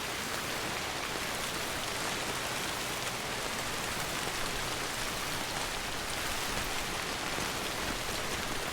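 Steady rain pours down in the video game Death Stranding, a dense, unbroken hiss of drops on surfaces that stays even and close throughout, with no voices.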